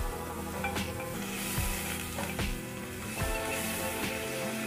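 Chili and turmeric powder spices fry in hot oil for a prawn and potol posto dish, a continuous loud sizzle broken by repeated scraping stirs of a spoon against the pan, with no talking.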